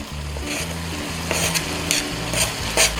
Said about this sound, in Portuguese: vamos envolver tudo com algum cuidado para não desfazer muito as batatas